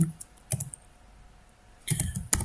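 CSS code typed on a computer keyboard: a short burst of keystrokes, a pause of over a second, then another quick run of taps ending in a sharper key hit, all close and clear with no voice.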